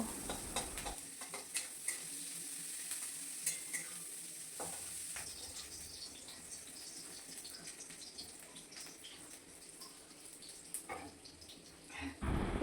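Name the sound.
onions and green chillies frying in a pan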